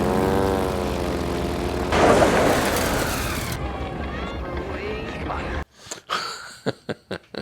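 A propeller aircraft taking off in Mad Max Beyond Thunderdome, its engine droning loud under voices, then surging and fading before quieter clatter and speech.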